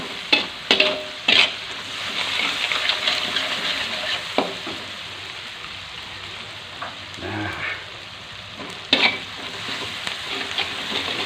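Nasi goreng with pete sizzles steadily in a hot pan while a utensil scrapes and clanks against it in irregular strokes.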